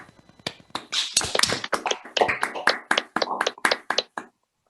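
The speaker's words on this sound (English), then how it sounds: "please unmute yourself and let's applaud the speaker" Online audience members applaud a speaker after a mathematics talk on persistent homotopy groups, a burst of scattered close-miked claps and taps from several unmuted participants that builds quickly, stays busy for about four seconds, then stops abruptly.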